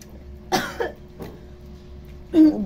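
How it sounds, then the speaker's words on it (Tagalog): Several sharp, harsh coughs come close to the listener in a quiet indoor setting during a meal: a quick pair, then a softer one, and a heavier cough after a pause. "Ubo-ubo ka pa dyan."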